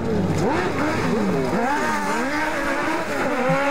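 An old rear-engined BEM race car screams through a qualifying run at a 2010 Steinbourg race, its engine revving and shifting in loud, continuous rising and falling pitch sweeps, close and unbroken.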